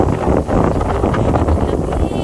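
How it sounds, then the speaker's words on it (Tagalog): Strong wind on an open, elevated hillside lot roars and buffets the microphone in a constant, rumbling rush that never lets up. "Ang lakas po ng hangin. Sobrang lakas po ng hangin."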